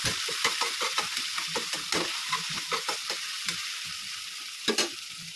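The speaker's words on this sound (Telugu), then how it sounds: "ఇది పచ్చి వాసన పోయేంత వరకు దీంట్లో ఇట్లా కలుపుతూ ఉండాలి" Ugaani bajji mixture with ginger paste being stirred in a frying pan: repeated scraping strokes of a spoon over a soft steady sizzle, close and alone, with a couple of sharper knocks near the end.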